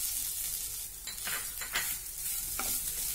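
Fresh grated coconut and poppy seeds are sautéed in a pan for an ukadiche modak filling: a soft, steady sizzle broken by several quick scraping stirs of the spoon, close and fairly quiet.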